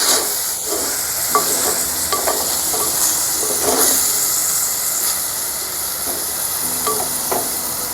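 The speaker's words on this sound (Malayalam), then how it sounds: "ഒഴിച്ചു കൊടുത്ത് ഇനി നമുക്കിതൊന്ന് ഇളക്കിയിട്ട് അടച്ചു വെച്ച് വേവിക്കും" Brinjal leaf thoran stirred in a clay pot: a loud, steady sizzle and hiss with intermittent scraping stirs, close up, no talking.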